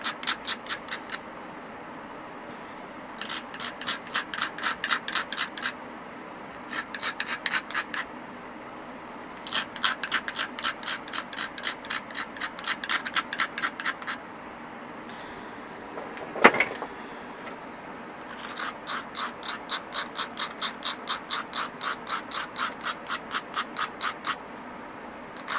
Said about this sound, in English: So I'm going to grind both ways